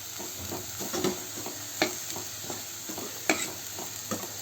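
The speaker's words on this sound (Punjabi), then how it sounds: "ਦੋ ਪਿਆਜ਼ ਮੈਂ ਭੁੰਨਾਂਗੀ" Two onions frying in a pan for a home-style vegetable dish made with ghee residue, with a steady soft sizzle broken by repeated clinks and scrapes of a stirring spoon, close and without any talk.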